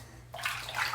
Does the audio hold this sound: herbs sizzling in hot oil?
no